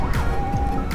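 An ambulance siren sounds in a car accident rescue simulator video game on a highway, a short, loud, steady wailing tone over engine rumble and a brief crash-like burst.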